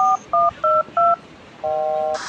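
Telephone keypad dialing tones: four short, evenly spaced DTMF beeps, then a longer steady tone, loud and clear with no talking.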